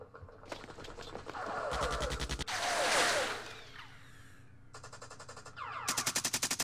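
Gunfire in the Vietnam-era wargame Campaign Series Vietnam comes in rapid machine-gun bursts, alternating with a whooshing blast in the middle and a closing string of evenly spaced shots, fairly close and loud, with no talk.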